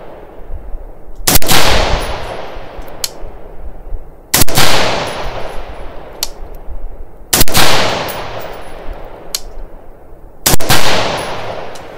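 Four sharp rifle shots crack out at even intervals during an accuracy test outdoors, each a loud close blast with a ringing decay and a faint distant echo, with no talking between them.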